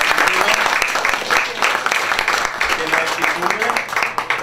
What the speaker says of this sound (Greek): να δώσουμε ένα τελευταίο χειροκρότημα στις υποψήφιές μας